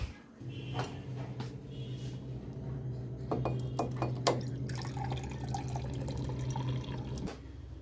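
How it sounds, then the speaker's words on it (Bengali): Drinking water poured into a vessel for heating in a home kitchen, a close, steady trickling stream mixed with drips and light clinks of pots and dishes, and no talking. "তার আগে একটু জল খাবো জল গরম করে নিই"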